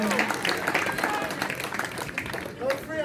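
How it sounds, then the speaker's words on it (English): An audience at a Christmas talent show finale claps for performer Amosa Lepai, dense crowd applause with cheering voices throughout, steady and moderately loud. "Let's give a big hand for Amosa Lepai."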